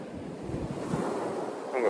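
Ocean waves wash onto Emi beach in Japan as a steady, close rush of surf mixed with wind buffeting the microphone. No voices are heard.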